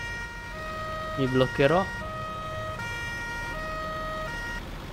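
An emergency vehicle siren wails in Farming Simulator 19, a steady tone switching pitch over several seconds, with a brief spoken interjection partway through.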